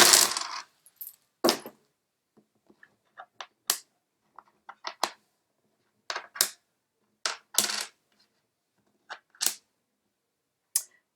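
Small hard runes are cast onto a surface during a tarot and oracle reading, a series of sharp, close clicks and clatters scattered irregularly across near-silence.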